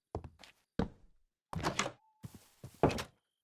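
Doors being placed while building in a survival-style video game: a series of short hollow thunks and knocks in a quick irregular run, with a brief soft tone between some of the hits, fairly close and clear.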